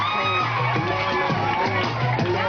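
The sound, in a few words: audience applauding and cheering for Unit 8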